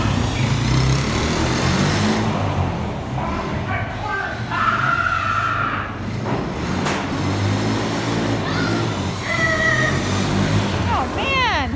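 A four-wheeler ATV engine runs continuously and close by, a rough droning hum that stays steady throughout, with voices and shouts over it.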